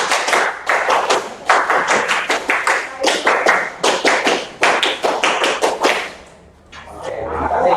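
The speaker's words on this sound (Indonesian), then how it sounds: "2 kali tepuk pramuka." A school class does the Indonesian scout clap twice, a loud patterned run of rhythmic group hand claps that stops briefly and then picks up again faintly.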